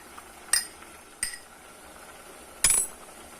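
A spoon stirs badam halwa in a pan, knocking against the metal in three sharp, separate clinks spaced over a few seconds against a quiet background.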